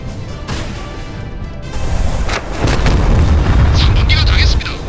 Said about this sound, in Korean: VLS 개방 확인. 발사 준비 완료. 1번 발사.